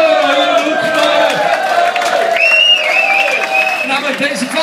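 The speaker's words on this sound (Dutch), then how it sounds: "Mag ik een oorverdovend applaus?" A party crowd at a charity auction claps and cheers loudly, with whoops and voices mixed into the roar as the noise carries steadily throughout.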